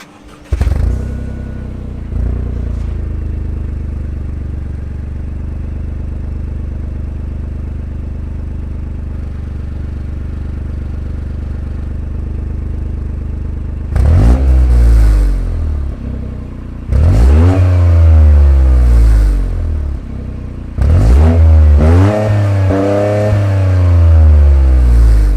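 Toyota GR Corolla idling with a steady low engine hum, then revving and accelerating hard in several rising surges through the gears, each pull climbing in pitch before a brief drop at the shift.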